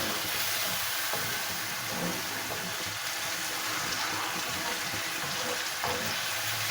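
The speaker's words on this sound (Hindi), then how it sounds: "टमाटरों के साथ हम कीमे को भूनेंगे इस तरीके से।" Minced meat frying with tomatoes in a pan, a steady close sizzle and hiss that continues throughout, with faint stirring scrapes and no talking.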